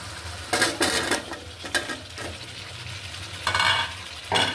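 Pieces of taro and potato are stirred and sautéed in a pan, with bursts of scraping and clattering from the spoon against the pan over a soft sizzle. The sound is fairly quiet and comes in uneven strokes.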